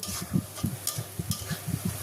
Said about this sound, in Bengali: এখন পেঁয়াজ কুচি তেলের সাথে এইভাবে নেড়ে চেড়ে হালকা বাদামি করে ভেজে নেব।